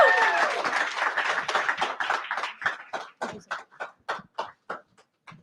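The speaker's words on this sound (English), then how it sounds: "one more round of applause for the amazing Digital for Good Summit" Applause from a summit audience starts as dense clapping, then thins into scattered separate claps that fade out near the end.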